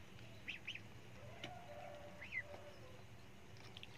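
Muscovy ducks on a farm give a few faint, brief calls at scattered moments over a low, steady background hum.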